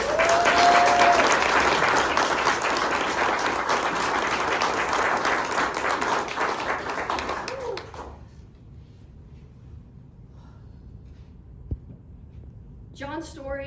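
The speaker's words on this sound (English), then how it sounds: "let's give a huge round of applause for John, please." An audience at a baseball club event introducing a new general manager applauds loudly and steadily for several seconds, then the clapping stops abruptly into near silence, with a brief sound near the end.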